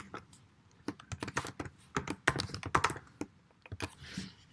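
Computer keyboard typing of a Git config command, quick irregular bursts of close, crisp key clicks with brief pauses between runs, a faint voice in the background.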